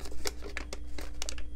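Origami paper is creased into a mountain fold, giving short crisp crinkles and soft rustling bursts, close and fairly quiet.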